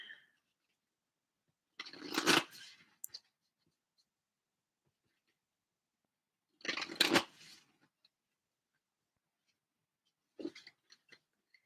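A Moonology oracle card deck shuffled in near silence, with three short, soft riffling bursts spaced several seconds apart, the last one briefer and patchier.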